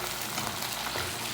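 Onions going into a pan of already browned garlic, a steady close frying sizzle with dense hiss throughout the short stretch, no voices.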